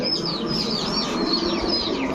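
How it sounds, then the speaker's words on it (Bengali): Pakistani high-flyer pigeons coo in soft, repeated rolling calls close by, over a steady background murmur and with a few faint chirps mixed in. "এগুলো হচ্ছে পাল্লা লাইনের কবুতর"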